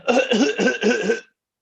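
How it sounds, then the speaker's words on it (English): Four quick coughs in a row, close and fairly loud, then silence. "I've been coughing all show"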